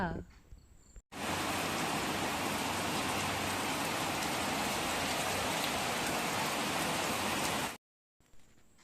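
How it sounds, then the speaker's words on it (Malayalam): Light drizzle falls steadily outside as an even, close hiss that starts and stops abruptly, with quieter background sound briefly before and after. "തണുത്ത മഴച്ചാറ്റിലും കണ്ട് ഞാനിവിടെ ഇങ്ങനെ ഇരുന്നു"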